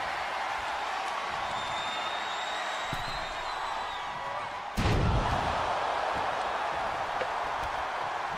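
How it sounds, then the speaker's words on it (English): A wrestler crashes to the mat from an air raid crashing neck breaker, one sharp slam midway through over steady arena crowd noise that swells a little afterward. "And now air raid crashing neck breaker right here from Dominique."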